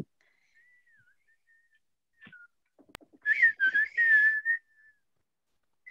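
A person whistles in imitation of a dolphin, a run of quick rising and falling high-pitched chirps and sweeps lasting about two seconds, fairly close and clear after a quieter faint whistle.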